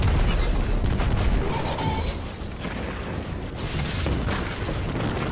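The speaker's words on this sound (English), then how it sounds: "I just shot my rocket." A rocket blast in a video game booms loudly and continuously through the clip, a dense rumbling explosion with bursts and crackle throughout.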